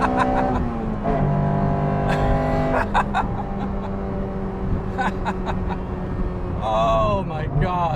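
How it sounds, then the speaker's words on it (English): An Acura Integra Type R engine revs hard in fourth gear at speed, a steady loud drone with rising pitch sweeps, and a voice talks over it throughout. "it really is noticeable how the character of the engine changes once you start really giving it"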